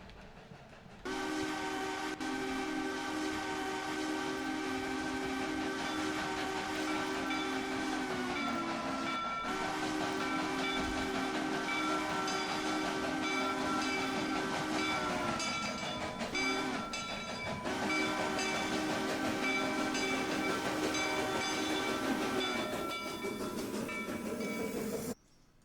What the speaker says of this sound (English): So much train noise.